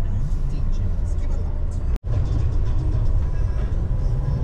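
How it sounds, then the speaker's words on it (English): A big truck rolls past on a road, giving a continuous heavy, low rumble that stays loud throughout, broken only by a momentary drop-out partway through. "Big truck."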